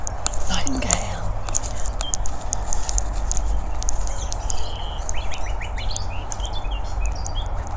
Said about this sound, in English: Nightingale is starting to sing very quietly, but there's definitely some nightingale sounds.